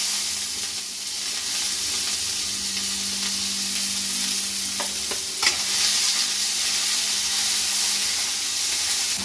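Chopped onion frying in a pan with potato and peas, a steady close sizzle and hiss running throughout, with a couple of brief stirring clinks partway through.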